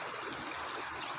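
Strong current of flood water rushing past at a flooded area, a steady, even, hissing flow heard alone at low volume.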